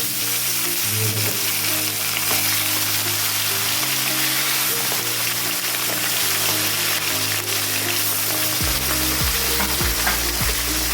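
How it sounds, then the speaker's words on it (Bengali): Bhola fish pieces frying in hot mustard oil produce a loud, continuous, close-up sizzle with occasional stirring and utensil knocks, and no talking over it. "আমি এখন মাছগুলো ভেজে নেব মাছগুলো এখন একটা একটা করে এইভাবে"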